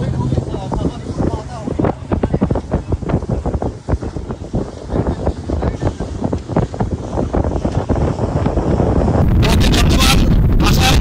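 A speed boat crossing sea waves while passengers wear life jackets; heavy wind buffets the microphone in loud, rapid gusts over the roar of the hull and engine, growing louder near the end.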